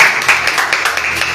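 A church congregation applauding together during a sermon, a dense, steady wash of many hands clapping close and loud throughout the short burst.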